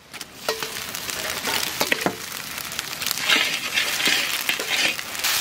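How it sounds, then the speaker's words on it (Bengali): Ginger paste hits fried onions in a pot for a katla fish curry, sizzling and spitting loudly close by, with sharp scrapes and knocks of a stirring spoon. "আমি দিয়ে দেবো আদা বাটা"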